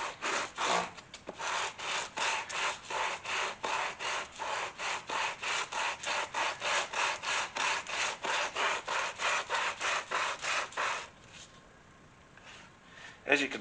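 Hand sanding of a leather kukri sheath: steady rhythmic back-and-forth rasping strokes, about two per second, close and clear for around eleven seconds before stopping into quiet.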